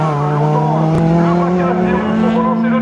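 A race car on a slalom course at Le Neubourg drives through a chicane, its engine a loud, close, continuous drone with a rising pitch, accompanied by a French-speaking commentator.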